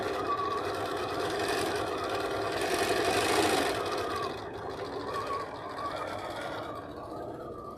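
A sewing machine stippling and tacking down appliqués on fabric, its motor whirring continuously and rising and falling in speed as the fabric is moved, loudest midway then easing off, with no talking.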